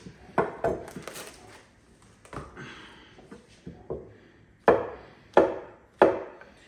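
A knife chops mushrooms on a cutting board in a home kitchen, with sharp, irregular knocks that turn into a few louder, evenly spaced strikes toward the end, close and clear with no voices.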